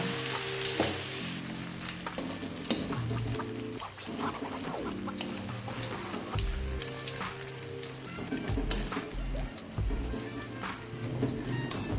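Thin batter drizzled gradually into hot oil in a wok for crispy fried pork belly bits, hissing and sizzling steadily with bursts of bubbling, loud and close throughout.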